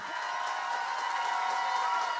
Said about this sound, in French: Faites un tonnerre d'applaudissements pour le 4e numéro de la soirée, Tillmann Fehrenbach.